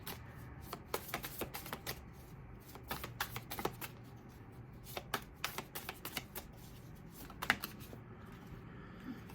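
Tarot cards being shuffled by hand close up, a steady run of quick riffling flicks and soft papery slaps in irregular bursts, alone without talk.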